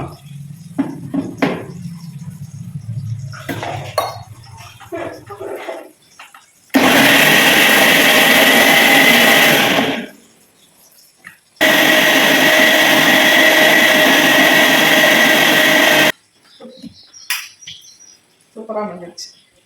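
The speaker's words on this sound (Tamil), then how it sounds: "இப்போ இதை மிக்சி கப்பில் போட்டு 2 டைம் தான் போடணும்." A mixer grinder with a small cup grinding ingredients for a bitter gourd curry, in two loud, roaring bursts of a few seconds each separated by a short pause, with talk and handling noises before and after.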